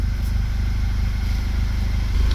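An Audi/Volkswagen engine with a check engine light and a lean fuel trim code, suspected from an air leak, runs steadily with a close, low, pulsing throb and faint clatter on top.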